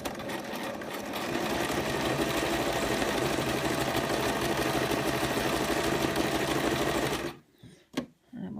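Sewing machine running steadily while stitching the teeth onto a sugar skull pincushion, a loud continuous motor whir lasting about seven seconds and then stopping abruptly, followed by a couple of faint clicks as the needle and foot are adjusted.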